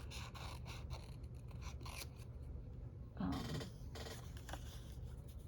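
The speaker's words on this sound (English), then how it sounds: "what I'm gonna do is grab my scissors again" Several quick snips of scissors cutting paper, close up, with rustling and a louder crunchy cut midway; no voices.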